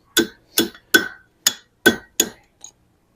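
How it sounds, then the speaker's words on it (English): Blacksmith at Sutter's Fort hammering a bucket hook over the anvil horn: six loud, ringing metallic strikes at a steady, even pace, then a lighter final tap, with no talk. "Now we're going to use the horn of the anvil to start closing these up a bit."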